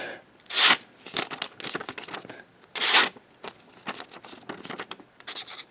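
An Esee Zancudo knife slices slowly through a very thin sheet of paper, giving several close, crisp papery rasps in separate strokes with quiet gaps between them.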